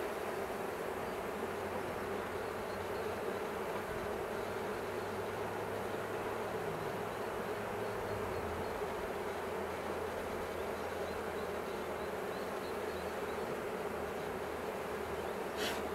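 Honey bees buzz steadily throughout a beehive inspection, a dense, continuous close-up hum with no talking.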